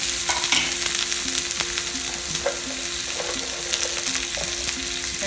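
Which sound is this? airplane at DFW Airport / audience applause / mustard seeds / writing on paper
mustard seeds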